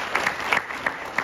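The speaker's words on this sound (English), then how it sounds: "Let's give him a round of applause" A crowd applauds with scattered, uneven clapping, steady and moderately loud for a brief moment.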